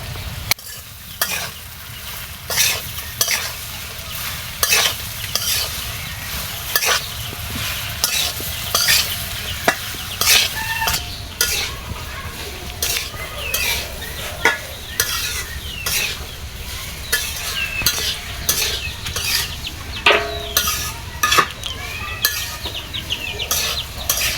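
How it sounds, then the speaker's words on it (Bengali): Okra stir-fried in a pan with fried egg and potato, seasoned with turmeric and salt: a steady close sizzle with repeated scraping and stirring clacks throughout, no talk. "ডিমটা ভাজা হয়ে গেছে এখন আমি ভেন্ডি দিয়ে দিব"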